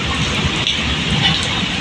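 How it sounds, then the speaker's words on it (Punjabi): Steady rain pours down in Barnala city, Punjab, a dense continuous hiss of drops striking surfaces close by, with no voices. "ਆਪਣੇ ਬਰਨਾਲੇ ਸ਼ਹਿਰ 'ਚ ਤਾਂ ਮੀਂਹ ਪੈ ਗਿਆ ਜੀ"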